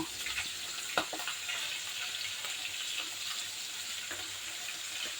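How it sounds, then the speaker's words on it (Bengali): Fish sizzling in oil in a frying pan on a home kitchen stove, a steady close crackling hiss throughout with a few sharper pops and spatters, no voices. "ফ্রাই প্যানে মাছ ভাজা বসিয়ে দিয়েছি"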